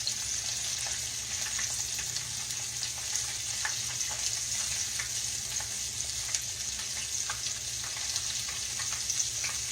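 Mushrooms coated in buttermilk batter fry in a hot pan with a steady, dense sizzle and crackle, occasional stirring clinks and spatters rising above the continuous hiss.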